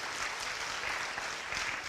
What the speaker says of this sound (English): So give He Ping a big round of applause